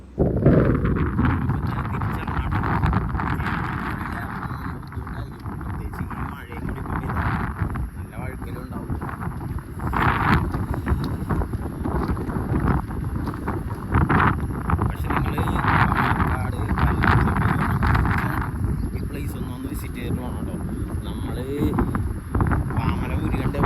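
Strong wind blowing at a hilltop Ayyappa temple in Pallavur, Palakkad, a loud continuous rumbling gust buffeting the microphone, with someone talking over it throughout.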